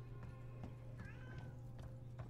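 A cat gives a faint, short meow in the horror game Alien Isolation, the brief call rising over a steady low ambient hum.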